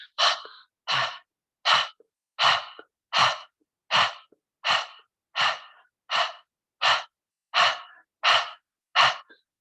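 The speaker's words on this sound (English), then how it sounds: "we'll start with exhaling through our mouth like we're panting" Rhythmic panting exhales through the mouth during a yoga breathing exercise, about fourteen short, breathy puffs evenly spaced roughly every two-thirds of a second, close and clear with silence between them.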